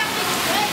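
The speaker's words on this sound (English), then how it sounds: "We just had this kind of dome of water, and then I just kind of was playing with my hand around it." Water rushing continuously around a hand at a water-tension dome exhibit in a science museum, a loud steady splashing wash throughout.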